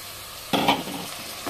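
Meat dropped into a pot of softened onions for Hyderabadi meethi gosht, giving a sudden loud sizzle and stirring burst that settles into quieter frying, with a second small sizzle near the end.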